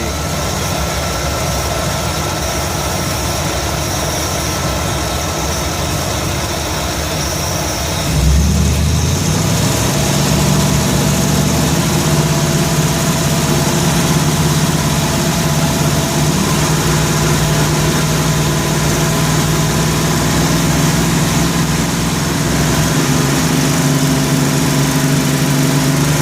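A Ford 302 V8 in an F100 idles steadily, then picks up and holds a higher, constant rev around 3,000 RPM. It drones loud and close for the rest of the time, with no talk.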